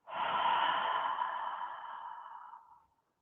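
A long, deep exhalation during a core breathing exercise, a steady breathy rush lasting nearly three seconds that fades out gradually, close to the mic with no talking over it.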